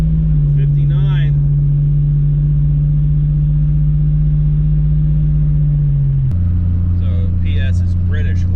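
A Toyota Supra engine runs on a dyno, a loud steady drone holding one pitch for about six seconds, then dropping lower, with people talking over it.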